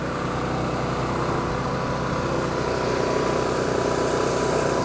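A 4,000-watt Onan generator on a 2006 R-Vision Trail-Lite 252 B+ motorhome runs with a steady, even engine drone and hum, close and continuous with no talking.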